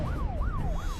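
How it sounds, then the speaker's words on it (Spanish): Police sirens wail on a quiet suburban street in New York, a near, loud rising and falling tone that sweeps three times over a low rumble of traffic, with no talking. "hasta que las sirenas de la policía rompen la calma"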